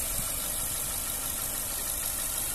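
A one-owner Honda Jazz 1.4 petrol automatic with 61,000 miles, recently serviced, idles smoothly. A steady, even engine hum and rumble runs unbroken throughout, with no talking.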